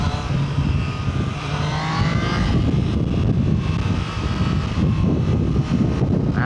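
A big bike motorcycle rides along a city street at moderate speed, its engine and wind roar continuous and loud throughout.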